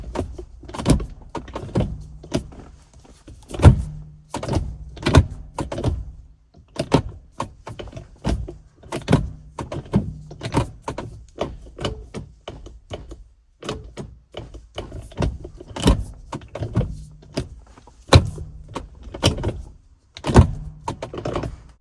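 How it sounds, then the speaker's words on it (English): Repeated clunks and knocks from working the shifter of a Tremec T56 manual transmission in a Corvette, Mustang Cobra or Viper, the gates blocking the shift, heard as a long run of close, sharp mechanical thuds at a steady, uneven rhythm. "when you're shifting from first to second, you have to force it in, it blocks it"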